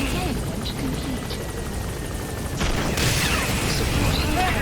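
Support helicopter flying in Metal Gear Solid V, a loud continuous rotor thrum close by, swelling near the end as impacts and a burst of noise cut in, with voices heard over it.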